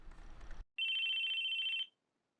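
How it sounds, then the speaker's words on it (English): A phone rings in the visual novel Chaos;Head Noah: a single sustained electronic trill lasting about a second, loud and clear against near silence, after a brief burst of other game sound. "It was the sound of a phone ringing, but whose was it?"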